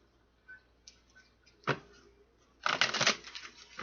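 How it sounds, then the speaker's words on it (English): Tarot cards being shuffled by hand, a couple of brief riffles followed by a longer, louder flurry of crisp card slaps, close and clear with no talk. "One more shuffle"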